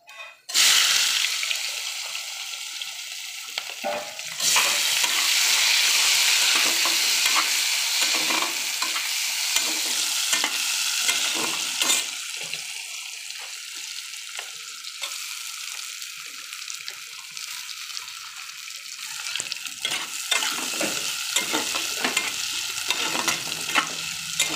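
Sliced onions drop into hot oil already fried with cumin, cloves, cardamom, cinnamon and bay leaf for a desi chicken curry, setting off a loud, steady sizzle with repeated scraping stirs throughout, no voices.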